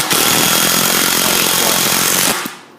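Power screwdriver driving screws into the frame of a storefront studio, a loud steady whirring drone that runs continuously for over two seconds before cutting off abruptly, with no talking.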